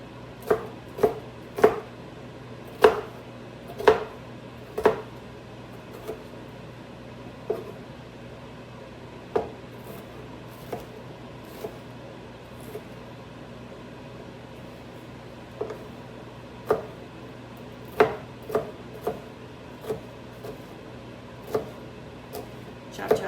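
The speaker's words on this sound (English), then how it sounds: "Chop, chop, chop, choppy there." A knife chops food on a cutting board with pockets, giving sharp, close knocks that come in quick clusters and scattered single strikes over a faint steady hum.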